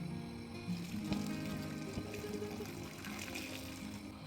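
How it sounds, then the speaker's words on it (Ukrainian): Boiling water is poured steadily into jars packed with tomato halves, making a continuous close gurgling, splashing fill that runs unbroken throughout. "Заливаємо всі наповнені банки окропом, обов'язково до самого верху."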